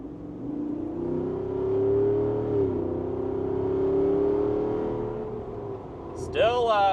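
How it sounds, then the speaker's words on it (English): From inside the cabin, a 2024 Jeep Wrangler 392 V8 with its exhaust closed gives a muffled, sustained engine growl that rises and falls through acceleration, with a short sharp noise near the end. "Even with that exhaust closed, it still, you definitely know there's a V8 under the hood"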